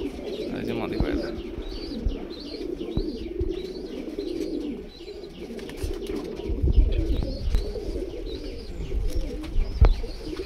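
Several pet pigeons in a Krishnagar, Nadia loft keep up a continuous, overlapping cooing chorus, loud and close, broken by occasional clicks and thumps, with some background chatter.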